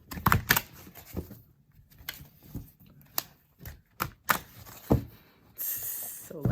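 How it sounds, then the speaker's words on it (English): Oracle cards shuffled by hand in several quick bursts of riffling and tapping, close and fairly loud, with pauses between and a voice talking over parts of it. "So lackluster, that shuffle."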